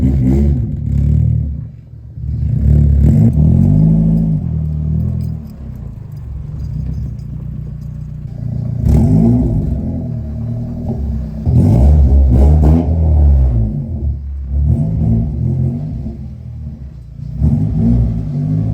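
A Nissan 240 car's engine runs loud and close, rumbling and revving in repeated surges as it is driven into a shop on a snowy, cold day.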